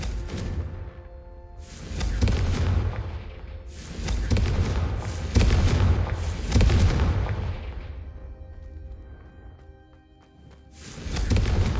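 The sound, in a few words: Confringo blasting spell hitting candelabras in video game Hogwarts Legacy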